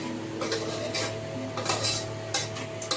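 Veg biryani with tomatoes stirred in a pot with a metal spoon, giving repeated scraping clinks against the pot rim over a low background hum, close and fairly steady.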